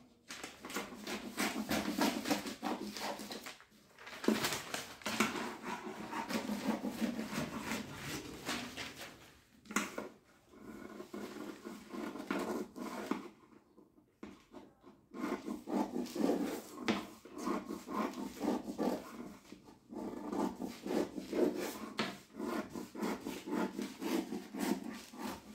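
Scissors cut through a paper pattern for a size 42 katori blouse, giving a close, steady rasping crunch in long rhythmic strokes with a few brief pauses between cuts.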